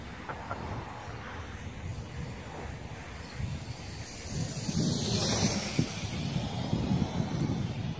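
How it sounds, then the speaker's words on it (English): Strong outdoor wind buffets the microphone in continuous low rumbling gusts that grow louder midway, with a faint higher whine passing in the background during a small quadcopter drone flight. "It's a lot of wind out here, more than I expected."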